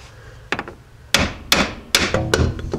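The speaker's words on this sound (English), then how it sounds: "I'm just going to take a little hammer and just pound on the back of the yoke of the drive shaft this way" A small hammer pounds on the back of a vehicle drive shaft yoke in a workshop: five sharp metallic strikes, close and loud, spaced roughly half a second apart, with no talking.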